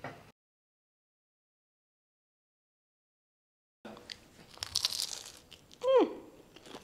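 Someone bites into a crunchy fried samosa or spring roll with cabbage and vegetable filling. A crisp, crackly crunch comes after a stretch of silence, with a short voiced sound near the end.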